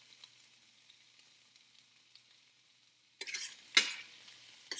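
Squash and tomato sauté in a hot metal pan: a faint low sizzle with small ticks for a few seconds, then louder stirring scrapes and a sharp clatter near the end.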